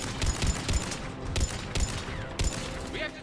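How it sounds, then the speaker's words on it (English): Rapid turret gunfire during a Mass Effect 3 firefight against Cerberus forces, loud repeated bursts and single cracks spread across the whole stretch, with battle noise filling the gaps. "We have to take out those turrets!"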